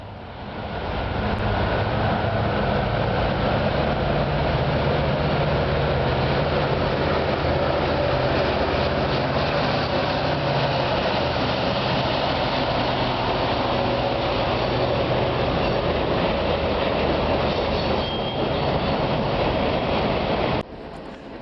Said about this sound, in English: At Multnomah Falls, we catch an empty grain train